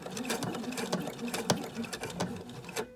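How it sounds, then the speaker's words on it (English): Sewing machine back stitching over ribbon on a placemat, a steady fast needle chatter running close and continuous, with a few brief thumps as the fabric shifts. "or you can do a back stitch and to set our stitches"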